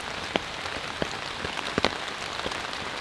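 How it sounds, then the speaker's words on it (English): Rain falling on a Catoma Stealth 1 tent, a steady soft patter with scattered sharper drops tapping the fabric at irregular moments, close and continuous with no voices. "Rain has moved in, and it has been raining for, I would say, a good 2 hours."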